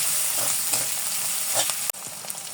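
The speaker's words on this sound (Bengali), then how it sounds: "সাথে চিকেন দিয়ে দেব। একটু ভেজে নেব।" Chicken frying in a pan for a dragon fruit and potato chop, a steady loud sizzle with a few soft scrapes and a sharp knock near the end.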